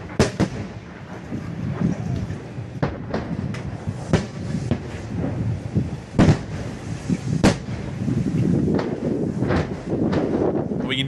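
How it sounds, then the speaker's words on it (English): Distant explosions hit a river bridge during wartime, recorded from a neighborhood on the western bank. Sharp, irregular booms and cracks ring out over steady wind buffeting the microphone. "We can hear the explosions hitting the bridge"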